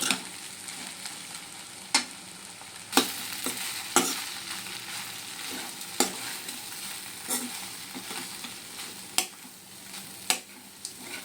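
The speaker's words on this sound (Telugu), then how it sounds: "సో ఇప్పుడు కడిగి పెట్టుకున్న అటుకులు ఉన్నాయి కదా, అది వేసేస్తున్నాను. ఇప్పుడు బాగా కలపండి." Washed flattened rice being stirred in a frying pan, a soft steady sizzle broken by periodic sharp clacks of a spoon against the pan, close and unaccompanied by speech.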